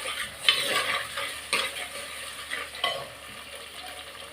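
Onions sautéing in a pan with a little rock salt, giving a soft, steady sizzle with occasional clinks and scrapes of a utensil stirring.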